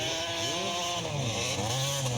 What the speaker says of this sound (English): Listen to that Pro Circuit exhaust pipe just screaming